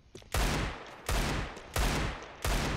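Four loud, evenly spaced Desert Eagle pistol shots ring out in a first-person shooter, each a sharp close blast with a short decaying tail.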